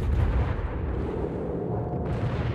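Warship guns firing in World of Warships, heard as a dense, continuous rumble of booming naval gunfire with heavy low end that sustains throughout.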